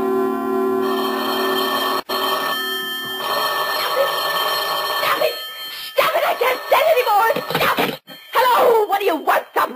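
A telephone rings in repeated bursts for several seconds, then stops, and a person starts talking close up.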